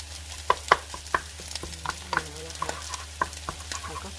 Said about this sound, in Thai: ยูก็จะผสมข้าวกับไข่นะคะ ให้มันมีกลิ่นไม่ไหม้นิดนึงจะอร่อยมาก